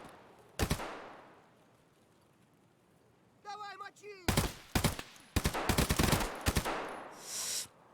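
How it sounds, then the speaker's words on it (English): Full-auto bursts from a gun in a first-person shooter with scavs, including a single early shot and then several rapid volleys that build into sustained fire. Chirpy in-game sounds come just before the volleys. "This thing goes full auto too, hell yeah."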